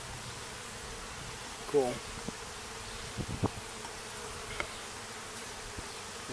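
Honey bees buzz steadily during a beehive inspection on a foundationless frame, a soft, constant drone with a few faint knocks and a brief spoken word.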